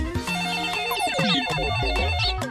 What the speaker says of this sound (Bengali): দেখুন আবার কে ফোন করলো।